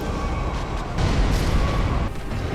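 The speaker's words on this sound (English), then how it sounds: "I still cannot dodge the explosion" A loud explosion in Dark Souls 1 unleashes a dense, rumbling roar that swells and then tapers over a couple of seconds.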